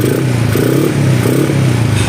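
Loud, close rumble of a Yamaha X1R Limited Edition motorcycle engine on its stock pipe, running steadily with slight rises in revs, while someone talks over it.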